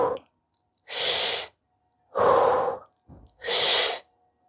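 Four slow, deliberate breaths during a standing fascia stretch with the head turned over the left shoulder, each a loud, close airy rush of about half a second to a second, separated by short pauses, with no talking.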